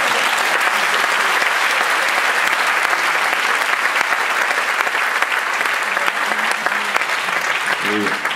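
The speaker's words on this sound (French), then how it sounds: "On peut applaudir le Steve Jobs du lait." Loud, sustained applause from a large audience at a dairy company's inauguration event, a dense continuous roar of clapping that holds steady throughout.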